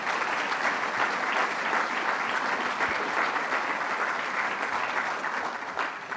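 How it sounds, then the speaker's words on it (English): Audience applause at a Syracuse University event, a dense, loud and even wash of clapping from a large crowd that holds steady throughout. "Let's give her a round of applause."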